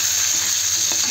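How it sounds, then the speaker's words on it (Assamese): Eggplant frying in a wok gives a steady, close, loud sizzle and crackle of hot oil that runs continuously with no pauses and no talking. "সেইটো কেৰাহীতে আৰু বেঙেনাটো মই ফ্ৰাই কৰি আছোঁ"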